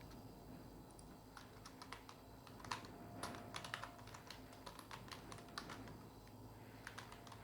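Quiet, close typing on a computer keyboard while writing code, with irregular quick key clicks over a soft background hum.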